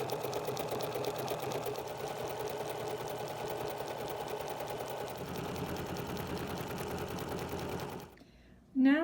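A sewing machine runs a steady zigzag stitch across a fused art quilt with raw edges, a fast even whirring chatter that continues for several seconds before stopping, with a brief clunk at the end.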